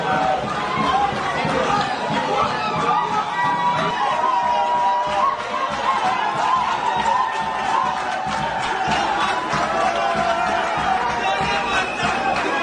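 Crowd cheering and acclaiming at a political party gathering as section office members are presented, a sustained dense wall of shouts and chatter with music-like tones mixed in throughout.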